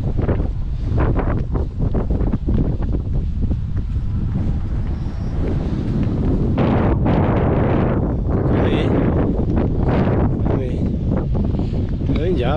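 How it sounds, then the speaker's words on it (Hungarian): Strong wind buffets the microphone outdoors on a long-distance hiking trail between Nagykereki and Berettyóújfalu in Hungary's Great Plain, a steady, loud roaring rumble with gusty swells throughout, with brief voices faintly mixed in. "Fúj a szél."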